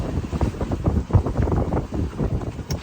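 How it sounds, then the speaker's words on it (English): Wind roaring across the microphone on a sailboat beating to windward off Greece, with four-to-five-foot waves slapping the bow head-on in repeated heavy thumps under continuous gusting rush. "4 to 5 foot waves, just head on, going to windward."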